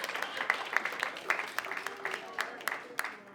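A comedy club crowd at a roast battle applauding, rapid scattered clapping at moderate distance with a few sharper peaks, fairly light and thin rather than a big roar.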